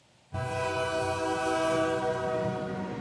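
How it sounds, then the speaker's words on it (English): A freight train rolling through Mexico, heard from on top of the cars: a loud, sustained horn blast with layered harmonic tones over a steady rumble and rattle of the wagons, starting abruptly after a brief quiet moment. "riding on top of a train through Mexico, a train with some ominous names"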